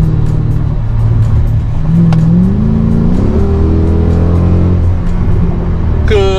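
A 2008 Mercedes-AMG C63 V8 in sport mode revs and accelerates, a loud engine drone climbing in pitch through a shift, heard up close from inside the car.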